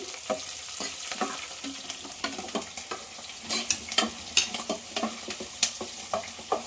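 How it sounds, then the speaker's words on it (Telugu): Sliced onions and bitter gourd frying in a pan for a Rayalaseema dal dish, a steady oily sizzle broken by frequent scraping stirs of a spatula, close and moderately loud with no talking. "కాకరకాయలు ఉల్లిపాయలు అన్నీ కూడా మంచిగా ఫ్రై అయిపోయినాయి"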